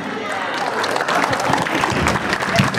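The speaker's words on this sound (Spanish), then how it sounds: "quiero desde acá pedir entonces fuertes aplausos para cada uno de ellos" Loud audience applause and crowd noise for students at a school singing contest in Casa Grande, a dense continuous wash of clapping mixed with voices.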